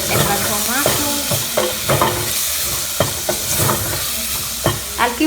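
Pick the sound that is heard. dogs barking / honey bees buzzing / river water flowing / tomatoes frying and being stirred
tomatoes frying and being stirred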